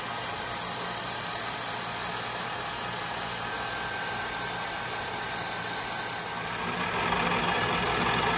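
A Colchester lathe hogs 17-4 PH H1025 stainless steel in a heavy single pass, a loud, constant machine drone with a high whining tone that shifts slightly near the end.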